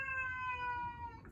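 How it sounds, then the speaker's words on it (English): A cat gives a single drawn-out meow, clear and close, falling slightly in pitch before fading at the end. "oh my kitty, oh my gosh, my cat"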